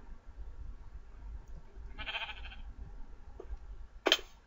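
A sheep in the Minecraft video game bleats twice in short bursts, the first moderately loud and the second a brief sharper cry, over a low steady background hum.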